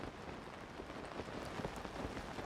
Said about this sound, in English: But of course, it's raining.